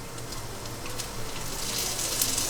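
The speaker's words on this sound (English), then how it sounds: "Ooh, listen to that sizzle." Bacon sizzles in a frying pan, with scallops newly added for a Chinese radish cake; a steady, close crackling hiss that builds slightly and pops toward the end, with no talking.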